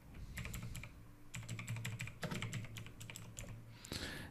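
Someone types quickly on a computer keyboard, with rapid clicking keystrokes in short bursts at close range.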